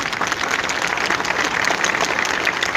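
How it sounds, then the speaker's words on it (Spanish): Congregation applauding during a Catholic church talk, a steady dense wash of clapping that stays even and fairly loud throughout with no voices on top. "Denle un aplauso al Señor para disimular este comercial."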